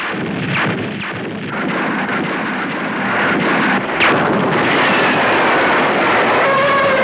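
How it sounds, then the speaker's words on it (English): Cartoon battle cannons fire in a heavy volley: loud, booming blasts roll one after another into a continuous roar of artillery with no talk over it. "Fire all cannons!"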